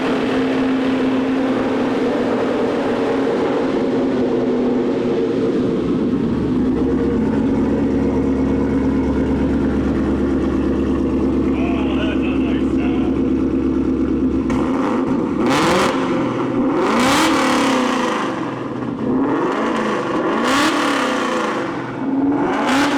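A 5.0 Boss 302 V8 fitted in a 2005 Mustang idles with a loud, steady low rumble, then breaks into several sharp, ear-piercing revs that rise and fall close to the microphone.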